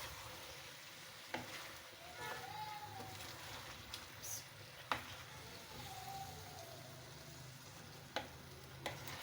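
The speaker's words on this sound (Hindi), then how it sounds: "सालन को ज़रा आराम से हिलाना चाहिए" Aloo gosht curry being stirred gently in a pot, with a low simmering sizzle and a few soft, scattered scrapes and clinks of the spoon against the pot.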